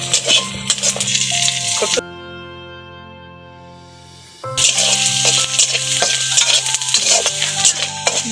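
Andasa pitha rice cakes fry in hot oil and puff up on a stove, with a dense crackling sizzle that cuts out for a couple of seconds mid-clip before resuming just as loud.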